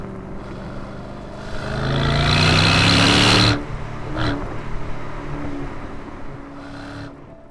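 An Aston Martin DB12 Volante drives past close by, its engine note swelling to a loud rush, then cutting off sharply and dropping to a steady, quieter road roar.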